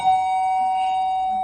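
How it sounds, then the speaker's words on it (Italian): A passenger call bell on an airplane seat armrest gives a single clear electronic chime that rings out as a steady sustained tone over quiet cabin background. "non esiti a suonare il campanello posto sul suo bracciolo destro"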